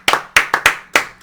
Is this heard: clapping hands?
yes